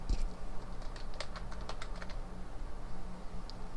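Typing a new folder name on a computer keyboard, a short run of quick, light key clicks in the first half, then quieter, with a soft steady background hum throughout.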